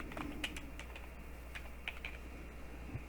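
Steady typing on a computer keyboard, a quiet run of light, quick keystrokes in an uneven rhythm over a constant low hum.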